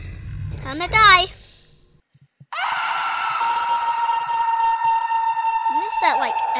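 An edited scream in the Sonic.exe video game comes as a loud, warbling, distorted cry. A long, sustained synthetic wail follows after a short silence, and another brief warped cry ends the clip.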